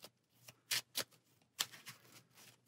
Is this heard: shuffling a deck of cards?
yes